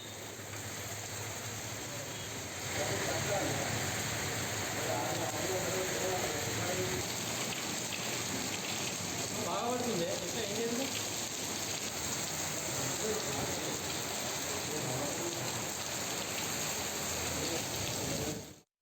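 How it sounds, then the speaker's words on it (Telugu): Steady rain falls across Hyderabad city streets, a dense continuous hiss of drops on surfaces that holds at an even level for the whole span, with no voices over it. "పలు ప్రాంతాల్లో వర్షం పడింది"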